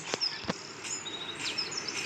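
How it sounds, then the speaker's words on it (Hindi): Birds chirp faintly in the background of Minecraft with shaders, a few short high tweets and calls over a soft ambient hiss, distant and sparse. "चिड़ियों की आवाज़ आ रही है"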